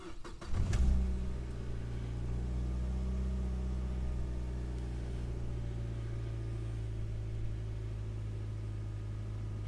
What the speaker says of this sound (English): That way we can just listen to the car or engine.